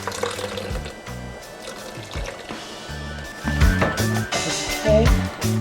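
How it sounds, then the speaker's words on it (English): Soaking water from sea moss is poured into a blender, a close, steady trickle and splash, with a low rumble in the background throughout. "I'm just going to add a little bit of the water that I was soaking it in."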